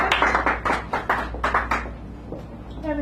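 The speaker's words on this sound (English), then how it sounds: "Give Antoinette a round of applause." An audience at a café poetry hour claps for a poet in a short burst of applause, close hand claps at first that fade to scattered taps after about two seconds.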